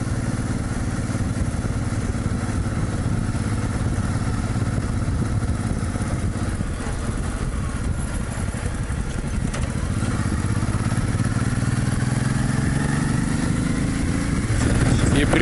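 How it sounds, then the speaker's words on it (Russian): A motorcycle with a sidecar carrying travellers rides along a road in Portugal, its engine droning steadily and loud throughout with a rising pitch near the end, while people talk faintly in the background. "не часто у них тут проезжают мотоциклы с коляской"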